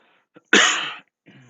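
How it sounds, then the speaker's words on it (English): One sharp, close cough bursts out, short and harsh, between brief quiet murmurs. "Sorry about the cough."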